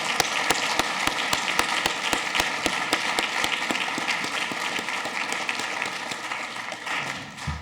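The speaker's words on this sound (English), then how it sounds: "let's have a round of applause for all the World War II guys" Audience at a Marine Corps event applauds World War II veterans, with sharp individual claps at first that swell into steady, sustained applause before tapering slightly.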